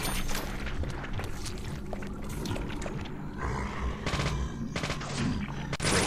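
Gunshots in the video game Deadly Premonition, a dense burst of rapid gunfire crackling loudly and continuously over layered game noise, with no voices.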